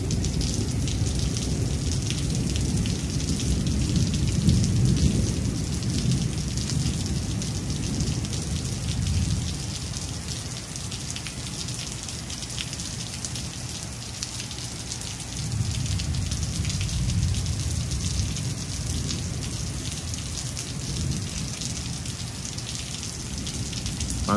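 Steady rain pours down in a dense, constant wash, while deep rolls of thunder swell and fade twice in the background; no voices.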